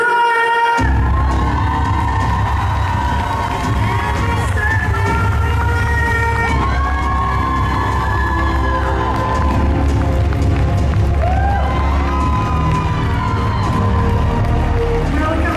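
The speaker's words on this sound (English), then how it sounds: "round of applause for Mr." Convention crowd at a Comic Con Q&A erupting in loud, sustained cheering and whoops for actor Shannon Kook, dense and continuous across the whole stretch with excited voices mixed in.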